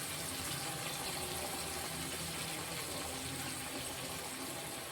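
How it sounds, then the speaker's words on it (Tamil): Water poured into a simmering vila meen fish curry, heard as a faint, steady gushing splash that runs unbroken for five seconds with no voices. "இன்னும் கொஞ்சம் தண்ணி ஊற்றிக்கணும்."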